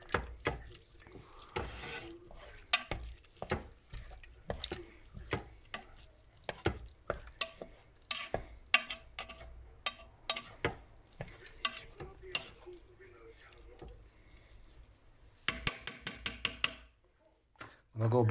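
Egg whisked inside a Pressure King Pro cooker, quick scraping and clicking strokes that continue in uneven bursts with brief pauses, close by, and a speaking voice faintly underneath.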